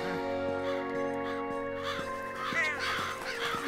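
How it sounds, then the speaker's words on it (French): Cartoon crows give several harsh caws in a row over sustained musical tones, loud and close. "J'aime pas trop tous ces oiseaux."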